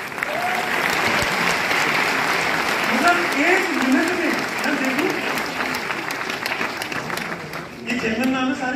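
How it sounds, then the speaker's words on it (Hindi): Loud, continuous applause from a seminar audience fills the room for the whole stretch, with someone talking and laughing over it. "जोरदार तालियां"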